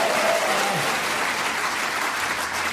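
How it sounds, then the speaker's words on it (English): A studio audience at a radio panel comedy show applauds warmly for the long-serving host, a steady, even wash of many hands clapping, loud and sustained, with a brief voice at the start. "That deserves a big round of applause."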